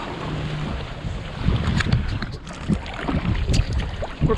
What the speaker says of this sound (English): We're paddling across Buttonwood Bay.